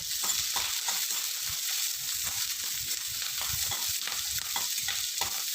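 Slit green chillies sauté in hot oil in a pan for a pickle, a steady close sizzle with scraping stirs of a spoon breaking through at irregular intervals.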